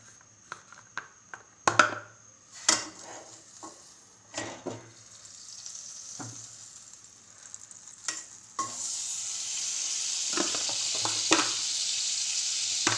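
Ghee or butter melts in a heated pan, starting with scattered clinks and stirring taps, then building into a steady, close sizzle that grows louder and fuller toward the end, with no talking.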